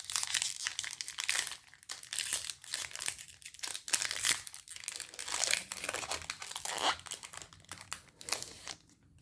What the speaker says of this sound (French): Prochain booster, qu'est-ce qu'on va ouvrir?